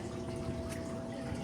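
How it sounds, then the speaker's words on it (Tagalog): Filter pump on a koi pond keeping the water moving, a steady close rush of flowing water with a constant low hum beneath it and no talking. "Yung bomba nila. Para dun sa agos ng tubig."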